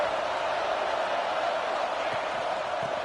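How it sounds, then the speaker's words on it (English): A football stadium crowd cheers and roars in a continuous, dense wash of noise during a college game, with no distinct voices standing out. "this crowd is turning it up a notch"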